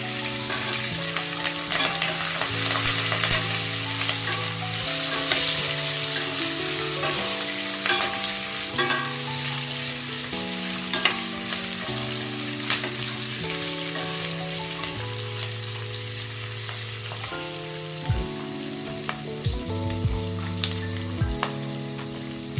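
Garlic and green chillies sizzle in hot oil in a pan, a steady close frying crackle with occasional stirring scrapes, running alone under soft background music.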